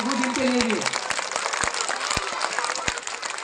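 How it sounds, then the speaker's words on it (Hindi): Audience applause welcoming a student at a primary and high school medal award ceremony, a crowd clapping steadily while a voice speaks over it at first. "जोरदार तालियों के साथ इनका इस्तकबाल करें।"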